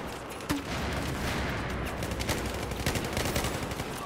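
Battlefield 4 multiplayer gunfire, sustained rattling automatic fire with a sharp loud shot near the start, heard in a dense, continuous battle mix.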